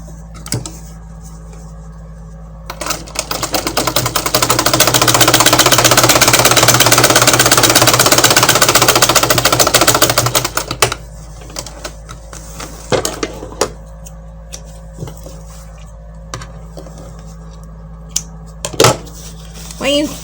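An electric sewing machine runs a steady burst of stitching for about seven seconds while sewing a pocket onto a long flared skirt, then stops, followed by scattered clicks and handling noises.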